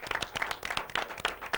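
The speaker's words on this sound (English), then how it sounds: "can we have a round of applause for Preston Handy, please?" A small late-night talk show studio audience claps steadily, a brief burst of applause heard at moderate distance with no talking.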